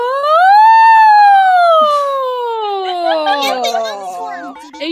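A voice imitates a siren as a vocal exercise, sliding from low up to high and back down in one long loud sweep, followed by brief chatter and laughter.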